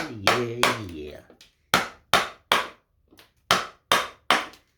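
A chisel carves a wooden leaf from cedar, landing several sharp, crisp strikes in a fairly regular series, each one close and clear with brief decay. A voice speaks briefly just before the first strikes.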